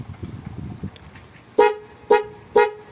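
A dual horn fitted to an e-bike sounds three short, loud honks in a steady rhythm, after some faint handling noise and clicks.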